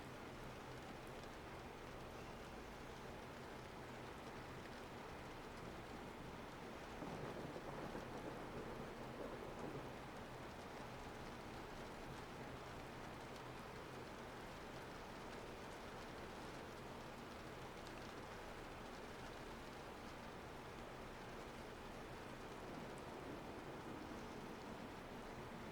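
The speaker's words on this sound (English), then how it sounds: "I love the rain sounds." Steady rainfall, a soft continuous hiss of drops with a faint low rumble underneath, quiet and unbroken throughout.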